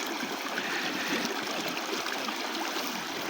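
Steady broadband rush of village river water flowing continuously while beef tripe (oghri) is rinsed in it, close and fairly loud with no voices over it.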